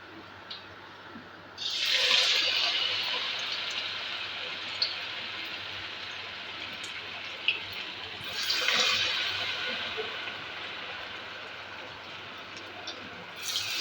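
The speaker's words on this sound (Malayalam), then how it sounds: "ഇനി ഇതെല്ലാം ഇതേപോലെ തന്നെ ബാക്കിയും കൂടി ഇതേപോലെ തന്നെ എണ്ണയിലിട്ട് പൊരിച്ചെടുക്കാം" Sweet potato snack pieces frying in hot oil, a steady hiss and bubble with two louder sizzling surges when more pieces go in, close by with no talk.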